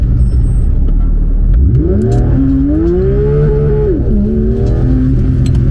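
A Porsche 992 GT3 launches hard from a loud idle, its engine revving high and climbing through a rising, sustained howl, dipping briefly before screaming on during a burnout.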